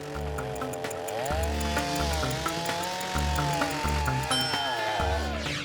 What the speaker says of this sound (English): I was able to get halfway through the tree with the chainsaw